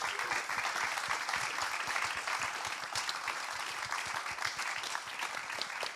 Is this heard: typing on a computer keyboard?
no